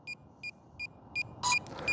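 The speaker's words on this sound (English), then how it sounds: "press and hold the power button until it starts beeping" A DJI motion controller for the Mini 4 Pro drone powers up with a series of short, evenly spaced electronic beeps, four quick chirps followed by a longer, louder tone, all crisp and close in a quiet room.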